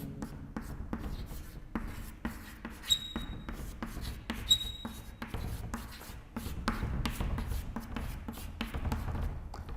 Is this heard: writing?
yes